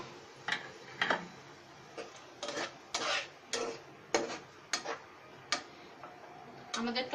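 Chopped tomatoes being stirred and fried with spice paste in a wok, a spatula repeatedly scraping and clacking against the metal in an uneven rhythm, with soft sizzling underneath.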